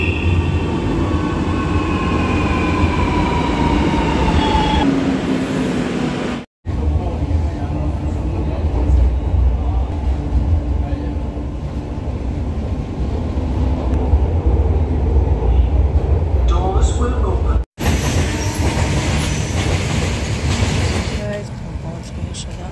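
A metro train rumbles along steadily for a long stretch, loud and close, with a broad roar, brief dropouts and a high whine near the start, while people talk over it.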